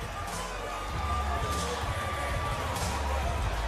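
Arena crowd at a professional boxing match roars and cheers steadily after a big uppercut, a dense wash of voices that swells slightly midway and holds loud throughout.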